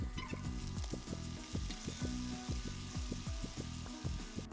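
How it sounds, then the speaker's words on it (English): Potato balls deep frying in hot oil, a steady bubbling sizzle with repeated sharp crackles and pops, close and continuous. "Now we are going to drop it inside the oil and deep fry it."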